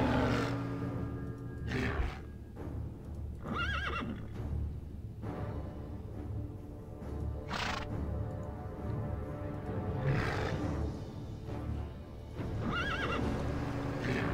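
A horse in the Warcraft 3 video game neighs and whinnies in several loud, separate bursts spread across the stretch, over a steady tonal game backdrop with faint hoof clip-clop and no talk.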